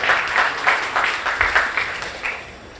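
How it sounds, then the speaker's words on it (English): Audience applause at a Bonei Olam fundraiser event, a room of clapping hands swelling in loose pulses, fairly close and moderately loud, then tapering off near the end. "the people involved that helped this happen tonight also deserve a round of applause"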